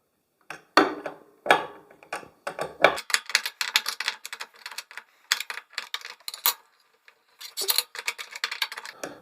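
Sharp metallic clicks and clatter from releasing the blade-clamping bolts on an electric planer with two blades, close up, in irregular bursts separated by short quiet gaps.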